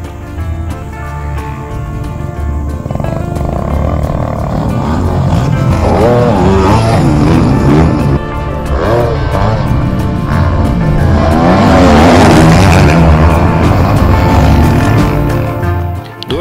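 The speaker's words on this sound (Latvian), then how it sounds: "Pie krustojuma uz Burtniekiem dzirdēja motoru troksni." Motocross motorcycles train on a dirt track in Burtnieki, Latvia, several engines droning and revving from a distance, rising and falling as they pass, swelling loudest toward the end.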